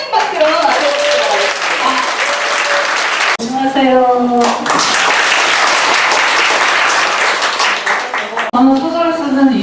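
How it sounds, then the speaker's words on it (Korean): An audience at a book concert breaks into loud, sustained applause to welcome a novelist to the stage. A voice speaks briefly over the clapping at the start and again near the end. "큰 박수로 맞아주시기"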